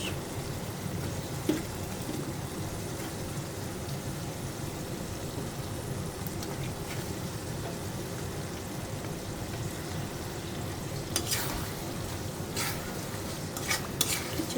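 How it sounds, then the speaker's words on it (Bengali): Potatoes and baim fish cook in a pan of oil-topped fried spices, a soft steady sizzle with occasional scrapes and clinks of a utensil stirring against the pan. "মশলা কষানো হয়ে গেছে উপরে তেল ভেসে আসছে এখন আমি আলু আর মাছ কষ"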